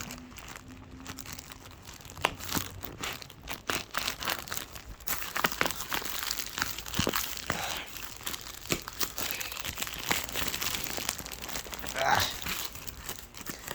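Packaging on a shipped parcel holding a smoke alarm crinkles and tears as it is opened, irregular close rustles and crunches at moderate level.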